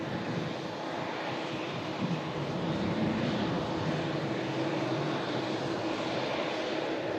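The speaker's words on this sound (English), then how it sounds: "This TUI Dreamliner has arrived in from Cancun" A TUI Boeing 787 Dreamliner, in on a flight from Cancun, gives a steady, broad jet roar that holds at an even loudness throughout, with no talking.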